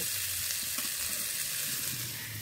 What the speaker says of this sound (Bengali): বন্ধুরা সবজিগুলো ভালো করে কষে নিয়েছি